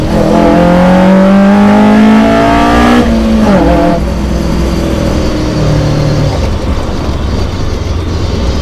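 A 1980s Toyota AE86 Corolla with individual throttle bodies and about 170 bhp pulls hard in second gear, its loud raw engine note climbing steadily, then dropping sharply at a shift and droning on with road roar.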